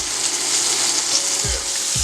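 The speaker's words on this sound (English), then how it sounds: "We're going to brown these off on this side and take them off, and we're going to start our gravy." Pork chops browning in a frying pan, a loud steady close sizzle with a couple of low thumps near the end, and no talk.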